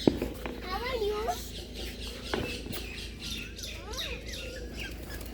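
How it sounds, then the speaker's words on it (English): A talking parrot named Mittu in a large park aviary: squawks and warbling chirps rising and falling over a busy background of other birds, with people talking nearby. "That is talking parrot."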